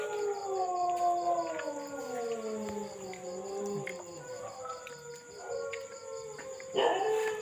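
A dog howls long and wavering, several overlapping drawn-out howls rising and falling close by, with a steady high whine behind and a louder burst at the end.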